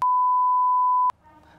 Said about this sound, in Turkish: Söyle bipleyeyim.